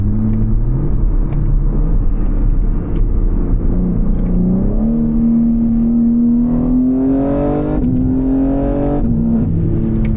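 A BMW M3 G80's inline-six engine revs up loudly and steadily, its pitch climbing through the gears as it accelerates, close and continuous with no talking.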